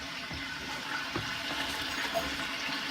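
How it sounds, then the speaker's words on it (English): Liquid poured onto a hot cookie sheet of roasted red peppers to deglaze it, giving a steady, close rushing hiss of water with no talk. "You're going to deglaze the bottom of the cookie sheet."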